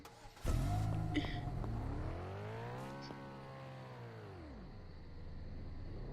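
A motorbike engine in the Emergency Hamburg video game revs up, holds a sustained whine, then winds back down, heard fairly faintly at a moderate distance.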